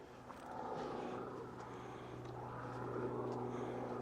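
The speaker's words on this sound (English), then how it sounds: "I hear the sound of a helicopter" A helicopter flies overhead as a steady, droning rotor hum at moderate distance, swelling slightly toward the end, with no talking.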